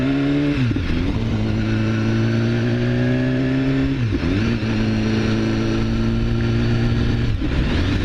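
A 2015 BMW S1000RR motorcycle engine on a test ride, loud and steady at high revs, with a few brief dips in pitch at gear shifts before it climbs again.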